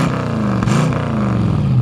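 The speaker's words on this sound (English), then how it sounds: "Give me a little rev on that engine and we can hear it back here." The 302 V8 engine of a 1967 Ford Mustang coupe revving, a loud, rumbling, steady drone heard from behind the car, its pitch sagging slightly as the rev eases off.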